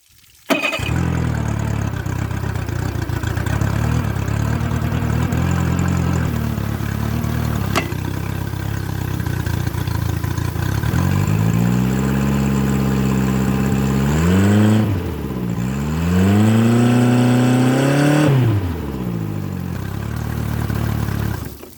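A 60hp Mercury four-stroke outboard runs steadily for the whole stretch, its engine note holding fairly even before the idle drifts up and down noticeably in the second half.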